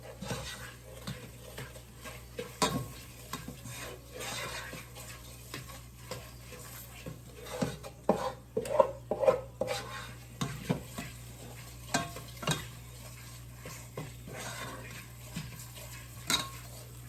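A dark roux for gumbo is stirred steadily in a pan: a utensil scrapes and taps against the pan bottom in an irregular rhythm, with a faint sizzle underneath and no talking.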